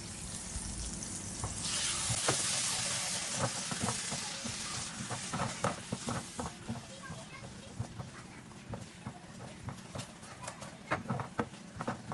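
Hot oil tadka for black pepper chickpeas sizzles loudly in a pan, a dense hiss that swells early and then settles, with clattering stirs and taps of a utensil against the pan.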